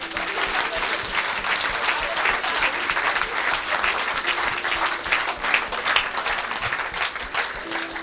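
A church congregation bursts into sustained, dense applause at a Christian deliverance service, a steady wash of many hands clapping at close range for the whole stretch, with faint voices mixed underneath.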